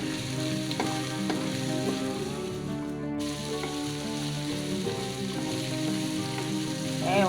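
Carrots sizzle and fry steadily in a hot pan, a dense, continuous crackle with occasional stirring knocks, close and loud throughout with no talking.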